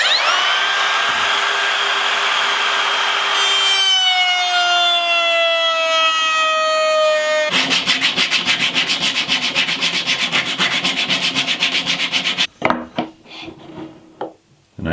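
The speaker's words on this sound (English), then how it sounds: "I'm just going to use a router with a round over bit." A router fitted with a round-over bit spins up with a rising whine, then chatters loudly as it shapes the edge of wood for a cedar strip canoe's sailing rig, running in rough pulses before cutting off.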